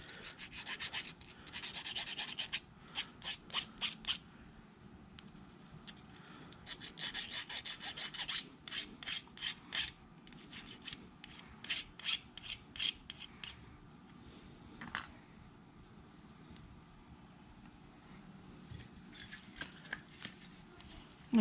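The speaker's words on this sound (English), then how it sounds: "Now we're going to deburr our edges here" Hand file rasping across freshly ground metal edges on a TH400 transmission part, bursts of rapid scraping strokes in clusters with short pauses, fairly close and clear, with faint background noise.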